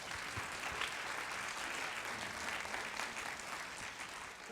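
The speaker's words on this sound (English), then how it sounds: "I will ask you to give them a big applause" Steady audience applause fills a lecture hall at the French Institute UK during a Manet forum, dense and even throughout with no break.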